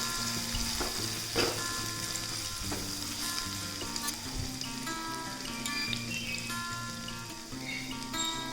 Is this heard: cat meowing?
no